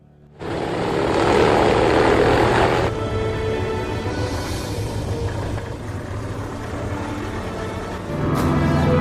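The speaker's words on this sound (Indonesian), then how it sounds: "pesawat tersebut pun bergerak menjauhi bandara itu" A propeller airplane engine drones loudly and steadily, rising sharply at the start and holding a strong, close roar throughout.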